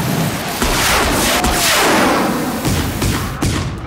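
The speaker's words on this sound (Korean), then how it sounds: "와, 이거 뭐야, 폭죽이네" Fireworks bursting in the video game Horizon Zero Dawn: a loud, dense barrage of booms and crackling pops running continuously for about four seconds, with a sharp rising whistle near the middle.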